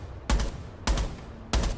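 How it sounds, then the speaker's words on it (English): Gunfire in Rainbow Six Siege: three loud, evenly spaced shots, each with a sharp attack and a short ringing tail, close and alone. "You're shooting a dead body."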